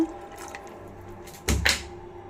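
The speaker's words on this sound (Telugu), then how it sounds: "కొంచెం వాటర్ పోస్తున్నానండి" Water is poured into a pot of tamarind gravy for egg and drumstick curry, making a brief splashing gush that stands out over faint background hum.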